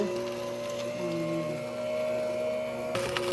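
An electric juicer grinding carrots into thick juice, a steady motor whine with tonal hum running throughout, fairly close, with a brief rattling burst near the end.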